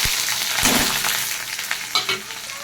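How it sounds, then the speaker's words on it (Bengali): Dried chillies, cumin seeds, chopped garlic and onions sizzle steadily in hot oil in a pan, a continuous close frying hiss broken by a few stirring scrapes and clinks, with no talking. "শুকনো লঙ্কা আর জিরে দিয়ে দিচ্ছি, কতগুলো রসুন কুচি দিয়ে দিচ্ছি, দুটো মিডিয়াম সাইজের পেঁয়াজ দিয়ে দিচ্ছি।"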